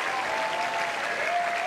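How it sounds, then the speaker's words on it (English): A tennis crowd applauds after a long rally between Grigor Dimitrov and David Goffin, dense sustained clapping that fills the arena evenly, loud and close with no voices on top. "And the applause is merited"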